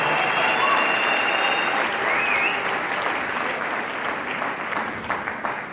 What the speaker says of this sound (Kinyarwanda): reka dukomere amashyi y'umugabo winjiye pastor wacu wa kaminuza